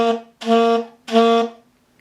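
Reed instrument producing three short clipped notes with heavy tongue contact on the reed, each cut off abruptly so the tone stops between them, close and loud with no talking.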